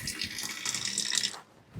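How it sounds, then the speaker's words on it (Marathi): Water runs from a household tap in a home kitchen, a steady broadband hiss for about a second and a half that stops abruptly, with near, fairly loud splashing. "केला ना नळाचा आवाज, केला ना नळाचा आवाज माईक मध्ये"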